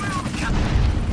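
A dense, rumbling blast of explosion noise from GTA San Andreas remaster, a police car blowing up, loud and continuous with crackling debris, filling the whole moment without a break.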